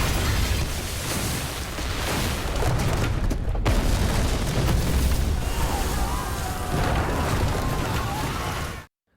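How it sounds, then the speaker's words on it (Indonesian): Bomb blast in a film thriller, set off remotely from a Nokia phone: a loud, sustained booming roar with rumbling debris that fills nearly the whole stretch before cutting off abruptly. "Andu langsung menekan pemicu bom dari HP Nokia-nya"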